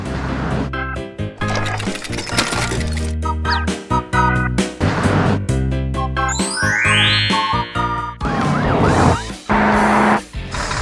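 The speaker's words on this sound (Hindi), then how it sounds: "जैसे ही सायरन की गूंज सुनाई देती है" A cartoon police siren wails and sweeps over loud, busy music, rising tones cutting through the dense mix near the end.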